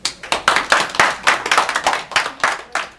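A seminar audience claps together in a brief burst of applause, dense overlapping hand claps with a steady rhythm that stays close and loud for a few seconds.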